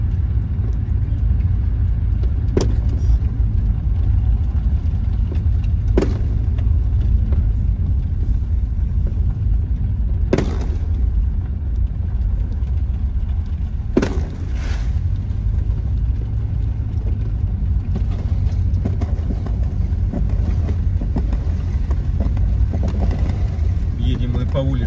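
A car drives along a city street in Anadyr, Chukotka, in winter, its engine and road rumble steady and close throughout, with a few sharp knocks or bumps cutting through.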